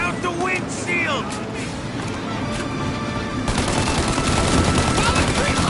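Rapid bursts of gunfire crackle through a vehicle shootout in the Mafia Definitive Edition video game, loud and continuous, mixed with engine noise and frantic voices.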